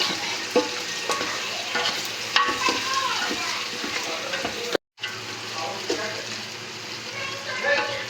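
Onion, tomato, ginger and garlic fry and get stirred in a pan for chicken vegetable Chinese rice, a close, busy sizzle with scraping spatula strokes and clinks, briefly cut to silence and then resuming; a voice talks faintly in the background.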